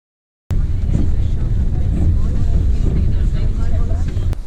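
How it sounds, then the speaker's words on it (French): Strong wind roars and buffets against the microphone on the road to El Chalten, heard from a motorcycle as a loud, continuous low rumble that starts abruptly and holds steady for a few seconds. "Et apparemment, il y a encore plus de vent."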